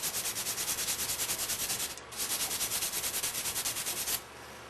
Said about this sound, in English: we're just going to lightly clean this copper. Try to remove the discoloration.